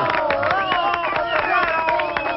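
An audience breaks into clapping during a political-style speech, with steady applause mixed with crowd voices and cheers.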